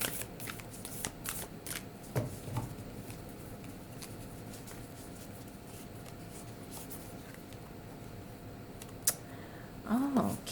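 Goddess Power Oracle cards shuffled by hand in a quiet room, a soft continuous riffling patter with a few sharper taps and flicks, close and moderately faint, with no talking.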